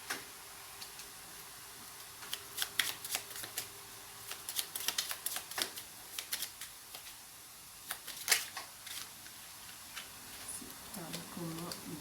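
A deck of tarot cards is cut and handled close by, producing faint crisp ticks and soft slaps in irregular clusters, with a voice speaking quietly near the end.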